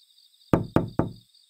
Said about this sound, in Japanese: 彼氏が横のドアをノックしてきた